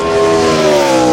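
A NASCAR Nationwide Series race car on a 2010 qualifying lap at Fontana, a loud steady engine drone held at high revs with layered harmonic tones, continuous and close throughout the short stretch.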